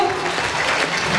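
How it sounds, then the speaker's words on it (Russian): Brief, steady applause for young ecologist award winners at a primary school farewell ceremony, a short wash of many hands clapping with voices mixed in. "Итак, поддержим бурными аплодисментами победителей номинации «Юный эколог»."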